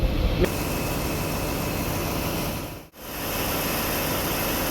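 Engine of the passenger launch Arafat 7 on a Dhaka to Barishal river trip, a steady low drone running continuously, with a sharp knock at the start and a brief dip in the noise partway through.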